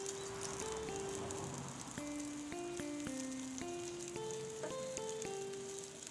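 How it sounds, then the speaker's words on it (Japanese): Spilled water boils violently on a can lid set over a campfire, giving a continuous crackling sizzle and hiss. A melodic music line plays over it throughout. "器の下の缶の蓋にこぼれた水は激しく沸騰中。"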